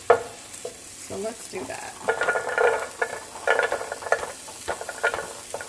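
Chopped carrot pieces, one medium carrot cut into bite-sized chunks for shrimp jjajangmyeon, stir-frying in a hot pan with a steady sizzle and repeated scraping stirs, close and moderately loud, with a few brief spoken words.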